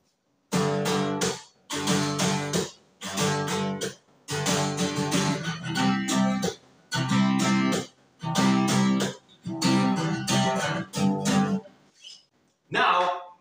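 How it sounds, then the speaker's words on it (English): Unaltered acoustic-style guitar playing plain, unprocessed chords in short, loud strummed bursts separated by brief gaps, steady and close, ending with a faint final flourish and no talking. "this is the original sound of the guitar."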